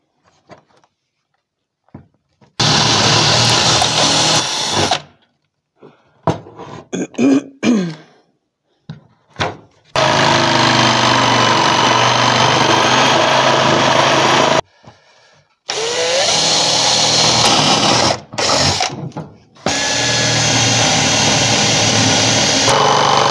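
A power saw cuts in long, loud bursts during a camper conversion of a Citroën Jumpy van, several sustained runs of a few seconds each broken by pauses and knocks of handling.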